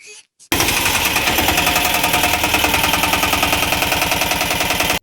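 A new-model Piaggio Ape auto rickshaw engine fires up after a brief silence and settles into a loud, rapid, chugging idle with a steady mechanical rattle, close by.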